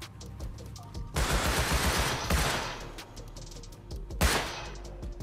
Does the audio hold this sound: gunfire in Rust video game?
yes